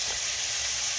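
Beef strips cut from a roast sizzle and crackle steadily in a hot stir-fry pan, a loud, close, continuous hiss with no voices.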